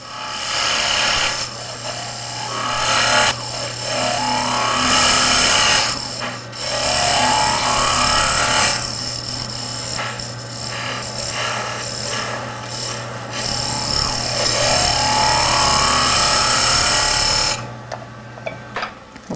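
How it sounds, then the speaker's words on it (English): A square-ended scraper rasps steadily across a wooden lid turning on a lathe, with repeated sweeping scrapes over a constant motor hum, close and fairly loud, with no talking. "I'll take the square-ended scraper and"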